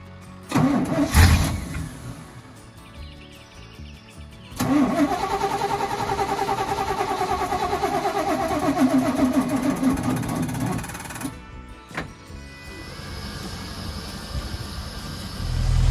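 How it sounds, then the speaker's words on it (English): A tow truck engine cranks and catches after a jump start, then runs with a steady rumble before cutting out and cranking again, all close by with no talking. "We had to jump start the truck, but she's running now, so we're gonna hit the road."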